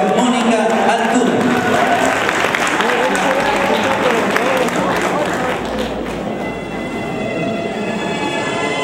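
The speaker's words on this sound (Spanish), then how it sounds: "Fuerte los aplausos para Mónica." Loud crowd applause for a singer at the grand final of a Christian singing festival, dense and continuous with cheering voices and a busy, reverberant hall ambience throughout.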